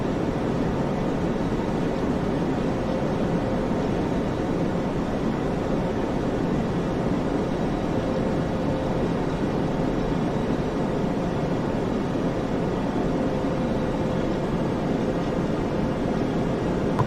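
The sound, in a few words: PMDG 737-900 jet engine humming, flight simulator video game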